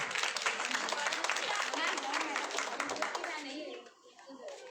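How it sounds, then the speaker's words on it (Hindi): A group of children at an indoor gathering applauding a girl, dense rapid clapping for about three seconds that then fades out, with a voice speaking faintly underneath. "एक बार ताली बजा दो।"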